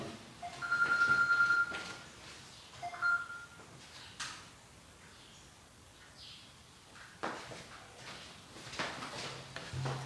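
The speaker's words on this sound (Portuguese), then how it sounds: "tinha o telefone celular tocando ali, despertador" A mobile phone alarm goes off during a Sunday church Bible study, giving two brief electronic tone bursts near the start, then fading into quiet room noise with a few soft knocks.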